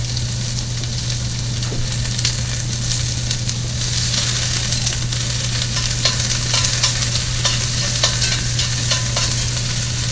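Vegetables fry in a very hot pan of oil while roast turkey breast and gravy are being made, giving a loud, steady sizzle that holds for the whole stretch with small crackles and spits on top of a constant low hum.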